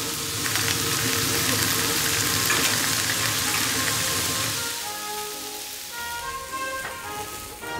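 Pork belly slices and kimchi grilling on a specially made wood-fired grill plate at a restaurant, with a loud, dense, steady sizzle and crackle throughout that eases off slightly near the end.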